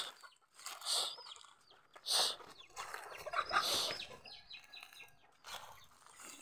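Chickens clucking and scratching in a small village garden, several close calls rising over a steady rustle of movement and soft outdoor background, with no talking.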